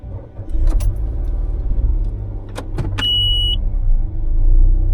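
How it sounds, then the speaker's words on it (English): Keys turn in the ignition of a car, probably a used car with a dashcam and rear camera in Thailand: a few mechanical clicks and jangles sound over a low cabin rumble, followed by a short electronic chime. "And we also have when I turn the keys on,"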